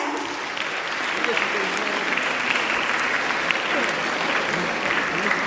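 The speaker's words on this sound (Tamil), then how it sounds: "ஒரு அரங்கம் நிறைந்த கைத்தட்டல் நம்முடைய ஆசிரியர்களுக்காக" A hall audience applauds teachers arriving on stage, dense steady clapping filling the room without pause.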